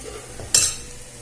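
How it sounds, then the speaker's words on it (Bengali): Onions fry in a pan as soaked ground spices go in. A single sharp hiss bursts up midway, then fades into a low, steady sizzle close by. "এটাকে একটু ভেজে নেব ভালো করে।"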